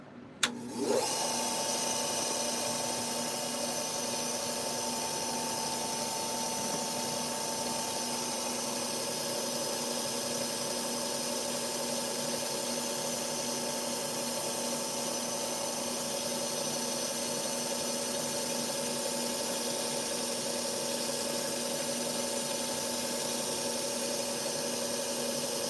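A power buffer runs steadily for the whole stretch, a loud continuous motor whine and hum while a Henckels knife blade is buffed against it, starting abruptly with a brief spin-up and holding level throughout.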